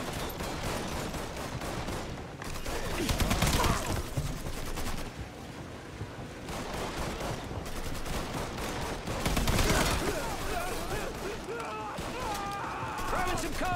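Dense automatic gunfire and bursts of shots in the Mafia 3 video game, continuous and loud throughout, with shouting voices mixed in over the battle.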